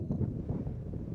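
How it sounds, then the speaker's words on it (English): Strong wind buffets the microphone with low, uneven rumbling gusts, steady and moderately loud across a brief moment. "The wind is so strong."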